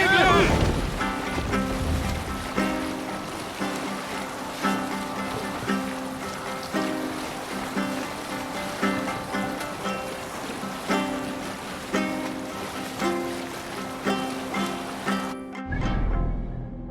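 Viking longship sailing out across open water in Assassin's Creed Valhalla, with steady rolling wash and wind under a dense orchestral score and rhythmic crew chanting, ending in a sudden cut.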